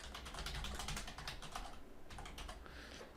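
Keys clatter in quick, irregular bursts as someone deletes and retypes a chart's axis title on a computer keyboard, close and fairly quiet, with no talk.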